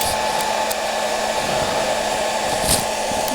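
A hair dryer blows a steady, loud, continuous whir of hot air onto a car sticker to soften it for removal, with an even tone throughout and no talking.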